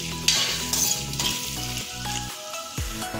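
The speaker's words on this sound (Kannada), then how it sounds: "ಈಗ ಇದರಲ್ಲಿ ಫ್ರೈ ಮಾಡ್ಕೋಬೇಕು ಈರುಳ್ಳಿ ಚೆನ್ನಾಗಿ ಈರುಳ್ಳಿ ಫ್ರೈ ಆಗಬೇಕು" Three medium onions frying in a pan for egg rice, a steady close sizzle with repeated stirring scrapes and soft clinks throughout, no talking.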